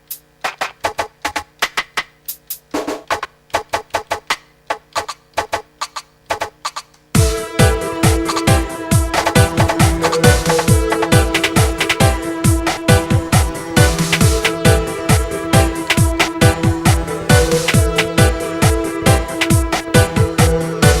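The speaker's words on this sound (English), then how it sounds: "These kind of little sort of percussive sounds." Layered percussion samples from a drum kit called bling bling play as a sparse, clicky pattern, then a denser, louder looping groove kicks in and repeats steadily.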